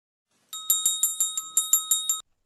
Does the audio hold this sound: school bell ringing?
yes